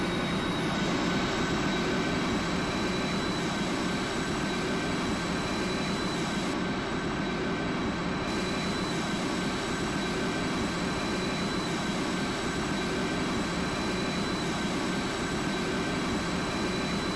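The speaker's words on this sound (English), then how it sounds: "Virgin 25 Yankee now taxiing runway 18 centre" Virgin Atlantic A350-1000 taxiing in the GeoFS flight simulator gives a steady, loud jet engine hum with a constant broadband rush and no talking.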